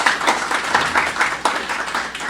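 An audience breaks into applause at a talk at a museum of ancient Jewish life, a dense, steady patter of many hands clapping fairly close, with no voices over it.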